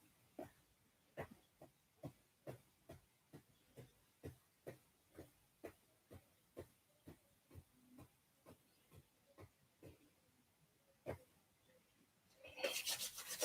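Palms rub briskly together to build heat in a quiet indoor lesson, making a long series of soft, regular swishing strokes close by. Near the end a louder rustling burst follows.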